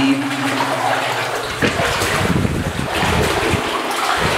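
Steady broadband water sloshing and splashing as someone wades through knee-deep floodwater in an abandoned mine with old ore cart rails, continuous and close, with no voices.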